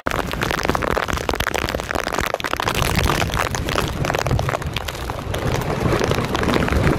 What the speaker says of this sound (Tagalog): Ang lakas ng hangin dito sa dagat.